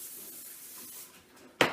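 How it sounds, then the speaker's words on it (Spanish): Cooking spray, a vegetable nonstick spray, is spritzed onto a pan in a kitchen as one short, loud hissing burst near the end of the clip, following quiet room noise. "También spray un sartén"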